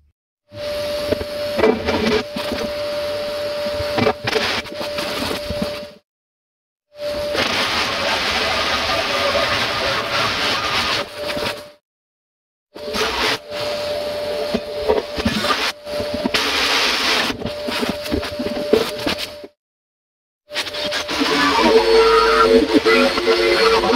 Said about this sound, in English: jigsaw doesn't work at all here